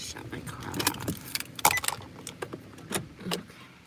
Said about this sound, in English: Let me just shut my car off.